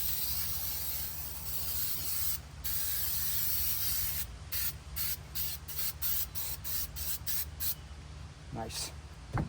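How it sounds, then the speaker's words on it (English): Super 77 multi-purpose spray adhesive hisses from an aerosol can in a series of short bursts, one early burst and then a quick run of rapid spurts, close and fairly quiet over a low steady hum. "I'm going to use the Super 77 multi-purpose spray."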